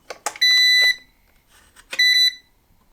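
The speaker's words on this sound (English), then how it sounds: "It beeped when the power was plugged in." An electric kettle gives two loud, bright electronic beep bursts, each a quick cluster of tones, roughly a second apart, with brief clicks and handling noise before each.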